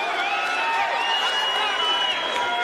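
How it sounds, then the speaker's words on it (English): Arena crowd at a UFC event cheers and applauds Chuck Liddell, a dense, sustained wash of noise with whistles rising through it, while a commentator talks over it. "They are giving him a heck of a round of applause here."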